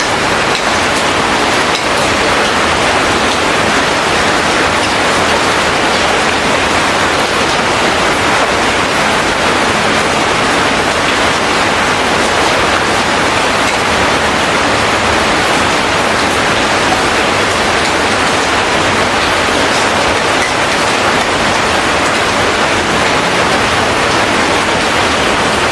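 Heavy rain pours steadily outside a home kitchen, a dense, continuous broadband wash that holds at a constant loud level throughout with no breaks.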